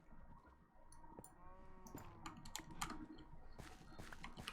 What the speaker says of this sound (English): Oh, it was a cow.